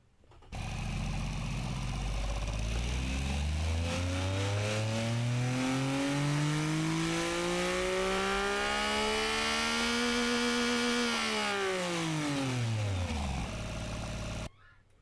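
A turbocharged car engine in a racing video game revs up steadily with a rising turbo whine, holds high for several seconds, then drops quickly back down; loud and continuous.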